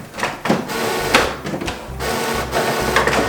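A home printer runs a sheet of 7x10 paper, giving a close, steady mechanical whirring and rhythmic feeding clatter with repeated bursts of motor noise, and no one talking.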